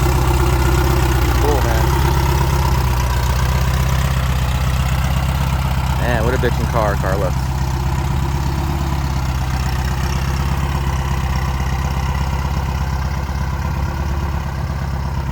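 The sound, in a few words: turbocharged 1970 VW Beetle engine idling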